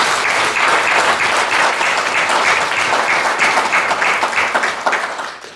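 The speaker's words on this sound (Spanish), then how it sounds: "Un aplauso para todos." Sustained applause from a large audience at a ceremony honouring retirees and senior citizens in Eibar, dense and steady throughout, filling the hall without any voices over it.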